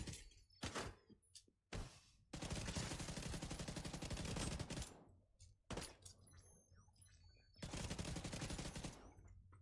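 Pistol fire in The Division 2 comes as sharp shots and longer sustained bursts of loud gunfire, separated by short quiet gaps, with no talking.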